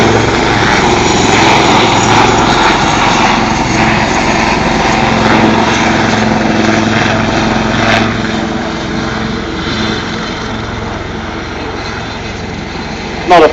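Lynx helicopters flying backwards in formation at an air show, a loud continuous rotor and engine drone heard from nearby with no pauses, easing slightly toward the end.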